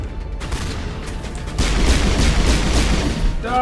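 Rocket fire and explosions in the video game Mass Effect Legendary Edition: a dense, loud rumble of booming blasts and gunfire that swells heavier partway through, with a brief whining tone at the end.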